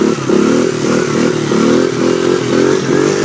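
An automatic pit bike without a clutch holds its engine at steady high revs, a buzzing, slightly wavering motor note with faint chain clatter, close and continuous while the throttle is held before a wheelie.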